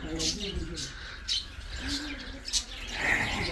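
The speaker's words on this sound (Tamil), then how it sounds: "இங்கே பார்த்தீங்கன்னா லவ் பேர்ட்ஸ் இருக்குது" Lovebirds give sharp, high chirps in quick bursts at close range. Someone talks over and between the calls.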